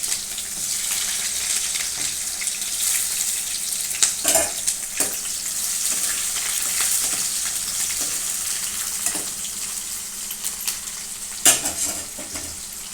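Sliced onions with tempering seeds frying in hot oil for a stuffed brinjal curry, a steady broadband sizzle with crackling pops and a few louder stirring scrapes, close and continuous with no talking.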